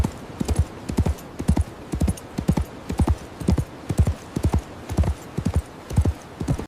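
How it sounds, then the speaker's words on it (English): Horse hooves clip-clop in a steady, even rhythm during a riding scene, close and fairly loud, with about two dozen distinct hoof strikes and no talking. "your horse riding POV video is ready."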